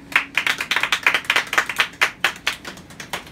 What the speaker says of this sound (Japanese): オープン、拍手。